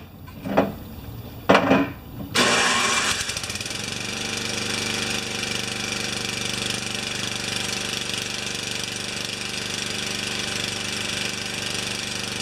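A Craftsman snowblower engine with a clogged carburetor cranked with a couple of pull-start bursts, then catching on full choke and running at a steady loud close drone.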